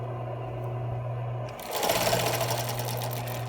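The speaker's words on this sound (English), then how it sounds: "we're going to put it back down, and we're going to sew again" Sewing machine stitching a medical mask cover with elastic tucked in, starting after a low steady hum with a loud, rapid, even whirring of the needle running close by.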